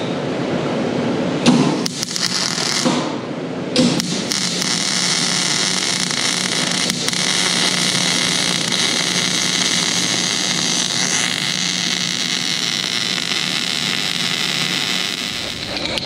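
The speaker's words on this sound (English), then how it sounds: "All right, weld away, welder boy." Steady, harsh crackling hiss of welding on dump truck exhaust stacks, running continuously and loudly for the whole stretch with only brief breaks near the start.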